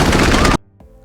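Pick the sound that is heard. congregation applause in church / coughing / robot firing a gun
robot firing a gun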